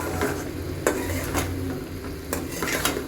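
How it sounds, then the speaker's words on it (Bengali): Spicy curry sizzles as it is sautéed in a pan, with a few sharp metallic scrapes and clinks from a stirring utensil over a steady frying hiss. "একটু কষায় নিচ্ছি।"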